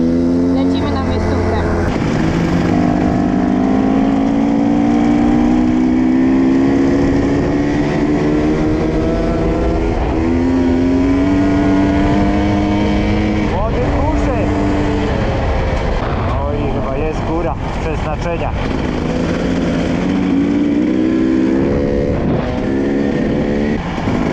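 A loud KTM motorcycle engine revving and droning close by in the mountains, its pitch rising and falling steadily, with a voice speaking over it at times.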